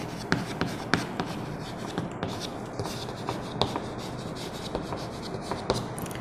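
Chalk or marker writing on a board during a lesson on electric current, a series of close scratchy strokes and taps in an irregular rhythm, heard alone.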